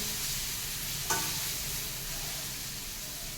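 An onion, tomato and spice mix cooking in a pan, making a steady hissing sizzle broken by one brief utensil tap; no one speaks.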